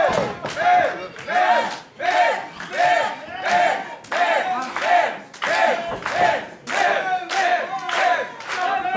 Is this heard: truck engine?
no